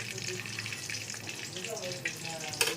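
Fish fry in hot oil in a pan, giving a steady sizzling crackle throughout with a sharper burst near the end, while a few faint tonal clinks sound in the background.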